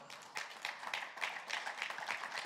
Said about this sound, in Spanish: Le hace aplauso fuerte al Señor.